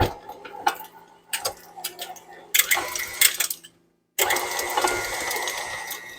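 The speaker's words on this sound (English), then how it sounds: "Got us a beater. And I'm going to turn that on kind of low." A handheld electric beater runs on a low setting while mixing a no-bake strawberry cheesecake filling in a bowl, giving a close, rattling mechanical whir that starts and stops in short bursts, then runs steadily, with a brief silent gap.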